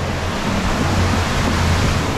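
Rushing water from a waterfall onto a water park slide pours and splashes in a dense, steady roar, close and loud, with no voices.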